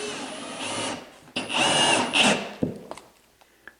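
A power drill whirs in two sustained bursts, driving a screw to secure faux stone wall panels, followed by a few light clicks and taps as the bit settles.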